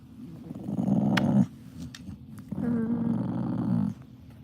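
Pet dog named Nelly growling in two long, low rumbling bursts with a short pause between them, close and loud with no talking.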